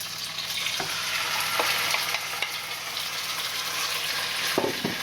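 Chicken pieces browning in hot oil in a pan for coconut curry chicken, a steady close sizzle with a few brief clatters of stirring, no talk.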